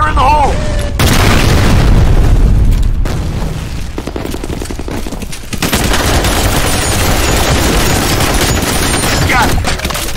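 Grenade explosions and gunfire in the F.E.A.R. combat video game, loud booms followed by rapid bursts of automatic fire, dense and continuous, with shouted voices mixed in.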